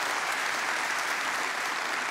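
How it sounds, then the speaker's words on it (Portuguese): Sustained audience applause at an evangelical religious television program, a dense, steady wash of many hands clapping throughout with no talk. "E para ele, uma salva de palmas."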